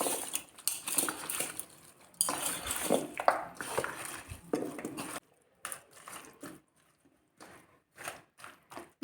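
Chicken being rubbed with turmeric powder, chicken masala and salt in a bowl, a soft irregular squelching and patting with light clinks of the bowl, quiet and intermittent with brief pauses.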